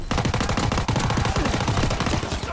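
Close, loud bursts of automatic gunfire from a gun in Call of Duty WW2, shots rattling off in a rapid continuous stream.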